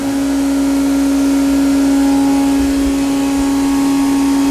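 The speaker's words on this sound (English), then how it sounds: "We are now going to turn that spindle on." A 2007 C.R. Onsrud inverted pin router spindle runs at a steady, loud, constant pitch, a smooth continuous whine with a strong tonal hum and broadband noise throughout, no voices.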